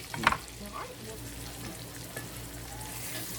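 Hamburger steaks sizzle and fry in a pan for a country-style Southern breakfast, a steady crackling hiss with a brief louder clatter near the start.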